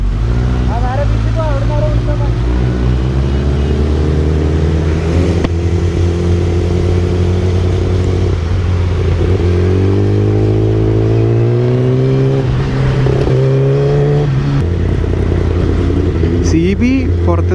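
A Honda CB motorcycle on a night ride along NH-66 holds a steady, close engine drone that climbs and falls in pitch as it revs, with people talking over it throughout.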